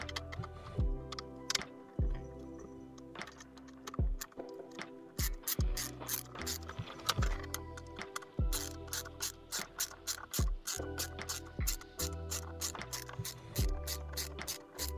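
A bolt being driven into a 3D printed plastic antweight combat robot with a ratcheting tool: rapid clicking pawl bursts in repeated strokes, close and crisp, separated by short pauses, with no talk.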